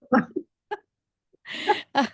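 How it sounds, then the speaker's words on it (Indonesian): Several short, harsh coughs in a broken sequence, close and fairly loud, with brief silences between them. "Ini kita sambil batuk."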